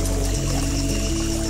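Cold water pouring from a bottle outdoors in a forest camp, a steady close gurgling, sloshing stream that continues unbroken throughout.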